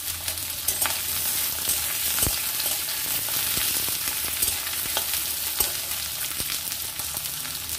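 Eggplant and potato stir-fry in a pan with salt and turmeric, giving a steady close sizzle with scattered clinks and scrapes of stirring throughout.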